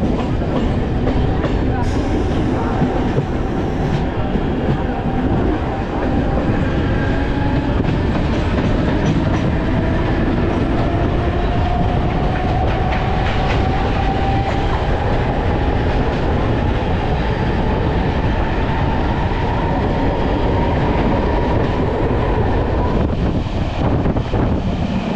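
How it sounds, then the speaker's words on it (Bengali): A Mumbai local train runs at speed, with a loud continuous rumble, rhythmic clatter of wheels and wagons, and wind buffeting nearby throughout, its tone slowly rising. "আর এই হচ্ছে মুম্বাইয়ের লোকাল ট্রেন"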